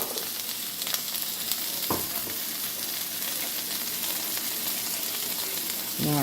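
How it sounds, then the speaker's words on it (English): Onions fry on high heat, giving a loud, constant sizzle throughout. A few brief clinks from stirring sound over it. "There goes our onions."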